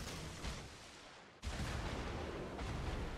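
Gun blasts from a tier 4 Minekaze destroyer in the World of Warships video game: a few heavy booming shots with rolling rumble and a sharp salvo partway through.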